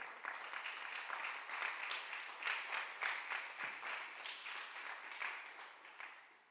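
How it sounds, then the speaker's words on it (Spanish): A church congregation at a Sunday communion service in Tzeltal claps steadily in a rolling, pulsing rhythm. The sound is quiet and somewhat distant, and it continues evenly for several seconds. "Denle un aplauso al Señor, por favor."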